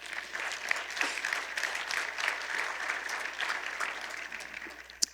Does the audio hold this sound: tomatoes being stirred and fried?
no